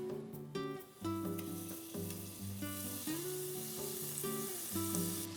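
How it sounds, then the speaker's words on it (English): Salted butter melts and sizzles in a saucepan over medium heat, a soft steady hiss running beneath prominent background music. "I'm gonna add 2 tablespoons of salted butter to that."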